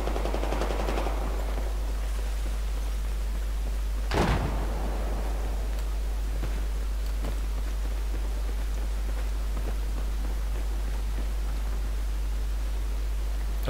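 Gunfire from a shotgun with explosive rounds in Battlefield 4 team deathmatch, one loud sharp blast standing out from a constant hiss of game noise, with fainter distant shots scattered after it.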